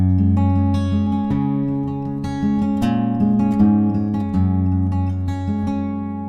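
An acoustic guitar plays the fingerpicked pattern of a song at a brisk tempo. Steady picked notes ring out clearly and close, with no talking.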